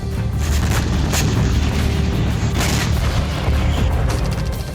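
Artillery fire during a Taiwanese army live-fire drill involving hundreds of tanks and 105 guns: loud, continuous booming with a heavy low rumble and repeated sharp blasts, with no voices.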